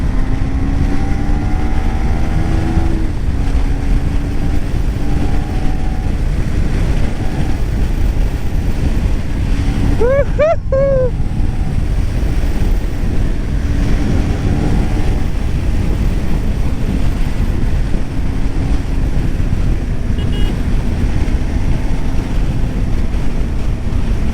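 Riding a 2024 KTM Duke 390 motorcycle under acceleration, with a loud, steady roar of wind buffeting and engine drone throughout and a brief chirping tone near the middle.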